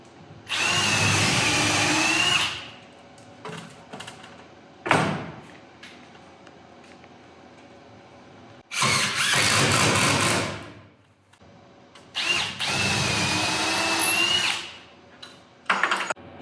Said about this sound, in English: we're going to pilot drill our holes so it doesn't split out.